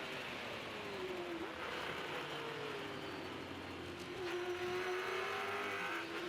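Race car engine on a hot lap around the Bathurst circuit in 2006, a steady loud in-car roar whose pitch climbs and dips as gears change, with a brief shift break near the start and another around four seconds.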